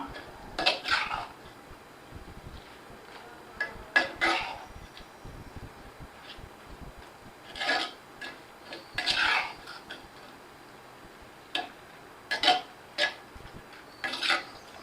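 A spoon clatters and scrapes against a pan as mutton chukka masala is turned over, in short bursts separated by quiet pauses, fairly close and moderately loud.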